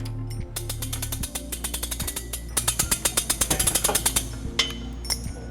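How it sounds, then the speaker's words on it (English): Rhythmic ratcheting clicks come from a U-Haul hitch jack as it lifts a heavy trailer hitch into place under a 2022 Honda Pilot, a close mechanical clatter with brief pauses between strokes. "We're going to be using our U-Haul exclusive hitch jack."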